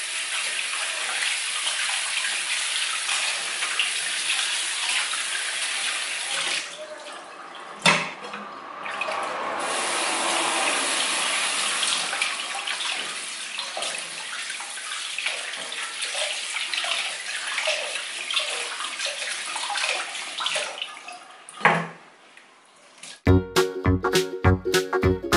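Running tap water splashes steadily over food being washed in a home kitchen before cooking, a continuous close hiss with a few clunks and a brief pause near the end.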